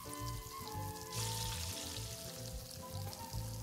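An egg and a hard drive frying in a pan in the video game Arctic Eggs, a soft continuous sizzle under tonal background music, fairly quiet and steady.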